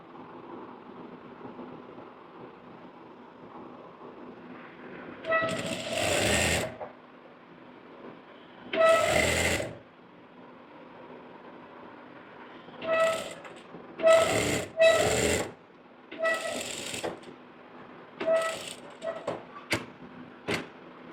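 A sewing machine stitches a ladies' pant pocket in several separate bursts, each a short whirring run with quiet hum and pauses between, near and moderately loud.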